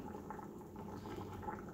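Water heating in the bottom of a canner for pint jars of beef stew, giving a steady low bubbling, simmering rumble that continues evenly throughout without talk.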